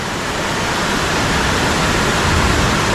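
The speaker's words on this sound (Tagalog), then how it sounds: "Lakas ng ulan, may bagyo." Heavy rain pours down during a typhoon outside a house, a dense, loud and unbroken hiss with no pauses and no voices.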